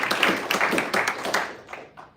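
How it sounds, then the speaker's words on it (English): A small gathering at a civic sports announcement in Kelowna applauds, with a burst of close, fairly loud clapping that fades out over about two seconds. "Please give them a round of applause"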